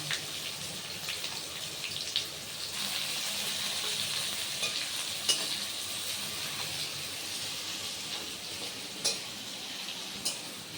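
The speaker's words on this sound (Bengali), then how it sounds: "একসাথে তেজপাতাটা তো ভাজতে হবে" Bay leaf frying in oil in a pan for chicken kosha, a soft, steady sizzle with a few light clinks and stirs, fairly faint and without talk.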